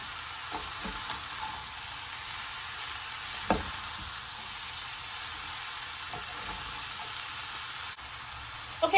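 Chopped tomatoes and diced jalapeño sizzle steadily in a hot skillet, a constant close hiss broken by a few soft stirring scrapes and clicks.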